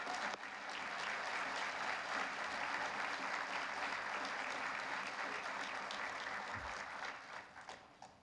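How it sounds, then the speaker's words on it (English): An audience at a thank-you event claps in sustained, even applause for hospital staff, a dense hiss of many hands heard from a distance, starting abruptly and tapering off at the end. "A round of applause for them,"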